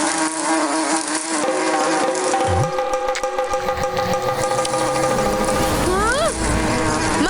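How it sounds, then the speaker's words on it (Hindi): A swarm of angry bees buzzes loudly and steadily throughout, a dense droning hum with voices calling out briefly over it. "मधुमक्खी, भागो दाऊ।"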